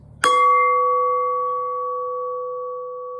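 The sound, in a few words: struck gas bottle ringing like bell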